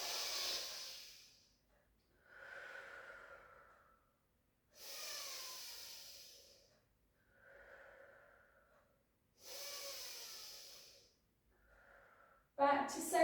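Slow, deliberate breaths during a pilates session come in close, steady cycles of inhaling and exhaling, about six in all, with quiet pauses between them.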